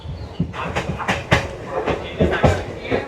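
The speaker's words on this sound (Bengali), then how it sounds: "এই যে এদিক দিয়ে একটা ট্রেন চলে আসছে" A train approaching on the Digha to Panskura line. Rhythmic clattering thumps come at a steady beat, fairly close and loud, over a rumbling background, with people's voices faintly mixed in.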